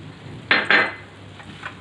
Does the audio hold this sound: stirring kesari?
yes